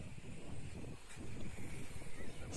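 Steady wind blowing across an open beach lagoon on a sunny day, a continuous low rumble with gusting microphone buffeting that swells and eases throughout, no voices present.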